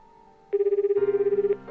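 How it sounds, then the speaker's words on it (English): A phone rings in the visual novel game 9-Nine: a bright electronic trill with rapid, evenly spaced pulses starts abruptly, thickens partway through, then cuts off after about a second. "Still holding the ringing phone in my hands."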